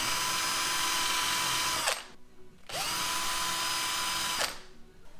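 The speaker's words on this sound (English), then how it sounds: "We're going to pre-drill down to the masking tape. So keep your drill nice and straight." An electric drill pre-drilling into wood whirs steadily in two bursts, spinning down between them, close and loud.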